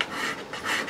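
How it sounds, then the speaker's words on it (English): A small hand file rasps briefly across the ends of a guitar part to bevel them, giving two soft back-and-forth strokes that are close and quiet. "when I go to bevel them, I'll use the little file"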